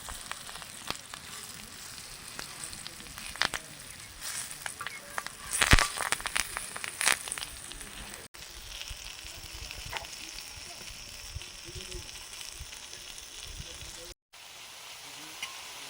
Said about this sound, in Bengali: আট ভাজার সঙ্গে কয়েকটা শুকনো লঙ্কা কয়েকটা কাঁচা লঙ্কা আর কারি পাতা দিয়ে দিলাম একসঙ্গেই ভাজা হবে